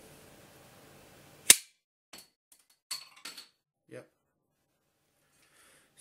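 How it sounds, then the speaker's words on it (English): A cap gun bottle opener fires a single cap in an indoor hallway: one sharp, loud crack, followed by a few faint knocks and small sounds in a quiet room. "let's fire this and see how far it fires"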